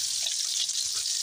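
Garlic toasting in a pan as a topping for pancit palabok, a steady soft sizzle of hot oil, close and continuous without any talk.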